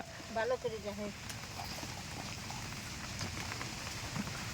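Steady rain patters and hisses on a surface during a storm, with a voice briefly heard at the start over the constant wash of falling drops.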